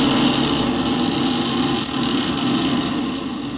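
SpaceX Starship SN9 Raptor rocket engines fire at launch with a steady, dense, distant roar that holds level throughout, no voices over it.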